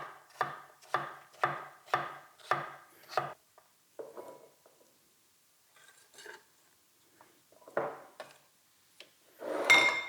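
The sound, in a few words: chopping food into small chunks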